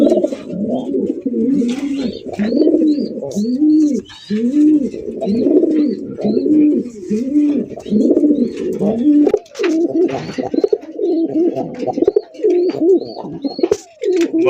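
Desi Bombai pigeons cooing continuously nearby, repeated rolling low coos overlapping one another, with occasional faint higher chirps in the background.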